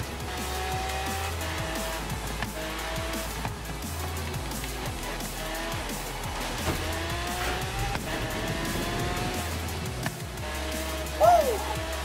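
In a racing video game, car engines roar steadily as race cars drive, with an occasional tire squeal. A Ferrari is being passed, and a voice talks over the continuous engine sound.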